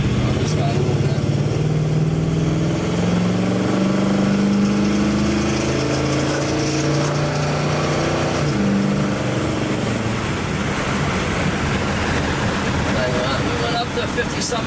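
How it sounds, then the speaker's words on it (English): A 1956 Oldsmobile 88 V8 with glass pack exhaust pulls hard under load, a loud steady engine drone rumbling throughout with rising and shifting tones, no talking over it. "You can get a better idea of what this thing sounds like under a load."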